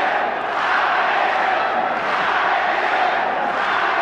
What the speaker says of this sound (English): I don't know if you folks at home can hear the cheering